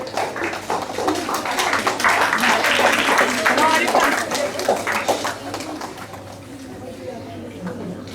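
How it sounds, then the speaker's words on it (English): Applause at a school assembly, a broad crowd of clapping that swells early, holds steady and then tapers off, with voices mixed in beneath. "With a big round of applause."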